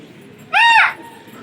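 A single arched, harmonic bird call rises and falls over about half a second, fairly close and loud against quiet background noise, from pigeons kept for fighting.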